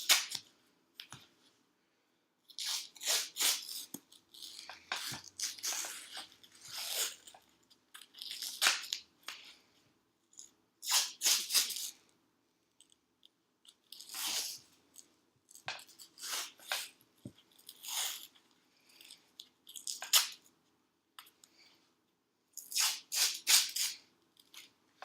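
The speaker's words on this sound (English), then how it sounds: "So we'll just wrap this up a few times wherever we stopped with the tape." Athletic tape being pulled off the roll and wrapped around an ankle to secure the open ends, heard as repeated sharp ripping and crackling bursts in uneven clusters, close and fairly loud, with short quiet gaps between pulls.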